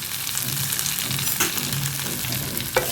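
Flattened rice fries in ghee in a pan over a medium-high gas flame, giving a steady close sizzle with soft crackles and a couple of brief stirring scrapes, no voices.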